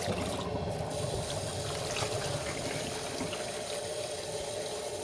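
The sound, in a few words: rinsing Shetland wool in water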